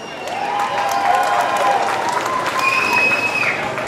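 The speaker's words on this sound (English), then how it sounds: "Let's give it a round of applause." An outdoor crowd at a demolition derby claps and cheers in a short, steady round of applause, with a voice and a few tonal sounds rising over the noise.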